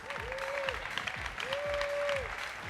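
Keynote audience at the Atlassian Summit U.S. 2017 applauding steadily and fairly loudly for a few seconds, with a crowd murmur and sweeping tonal sounds running underneath.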